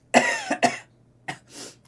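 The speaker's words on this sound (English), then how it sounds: "I literally just coughed and some snot came out" A person coughs twice in close succession, wet and forceful, then gives a softer short cough and a faint throat-clearing huff after a pause; close and alone with no talk.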